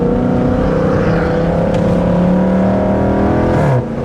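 Toyota A90 Supra warming up before a track meet, its engine idling loud and close with a steady droning hum, then a brief rev dip near the end.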